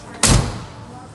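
A single solid thud as the door of a Ford F100 pickup is shut nearby, followed by a short fading resonance in a quiet space.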